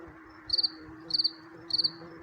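A male cricket sings in three evenly spaced bursts of rapid, trilled chirps, loud and close against a quiet hum.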